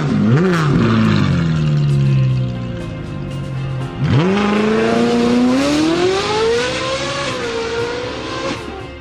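A Ferrari sports car engine revs loudly, dropping in pitch and then climbing in a long, steady rising rev before easing off.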